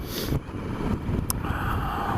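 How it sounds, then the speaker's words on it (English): Strong wind buffets the microphone in a constant heavy roar, with gusty swells and no other clear sounds. "it is blowing a gale."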